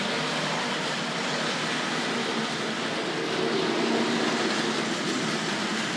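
A Tri-ang model railway train runs steadily along a track on a return loop, giving a continuous close rolling rumble with a faint rhythmic clatter and no pauses.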